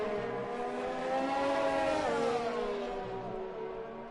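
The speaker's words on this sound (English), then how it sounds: "there was a few cars just coming through" Formula 1 race cars in the F1 2020 video game at the Japan circuit sweep past with a sustained high engine whine that swells and fades over a few seconds.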